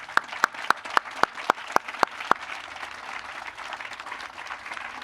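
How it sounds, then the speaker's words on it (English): A small audience at a groundbreaking news conference claps, with a sharp evenly spaced run of nearby claps standing out over softer scattered clapping that fades. "I just want to give them a round of applause for their input."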